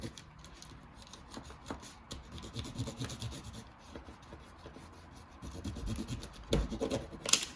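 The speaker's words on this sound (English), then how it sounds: "you can even use the bottom part of the crayon, the flat side, and you can rub it this way" The flat side of a crayon rubs back and forth over paper in quiet, scratchy strokes, close and soft, with a few louder rasps toward the end.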